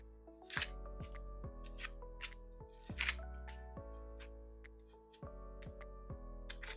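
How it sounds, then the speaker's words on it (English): A knife dices peeled onions on a cutting board, producing a string of crisp, sharp chops in quick bursts with short pauses between them, close and fairly quiet with no talking. "I'll show you the quickest way I normally go for to dice onions so that I'm not there struggling with my knife through and through."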